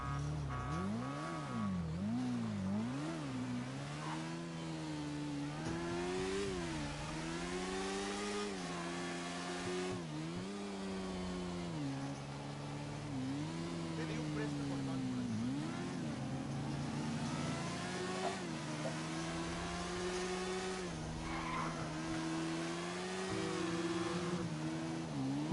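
FCR 1000 Custom motorcycle in GTA V Online, its engine revving and droning continuously, pitch repeatedly rising and falling as it accelerates and shifts through gears over a long stretch.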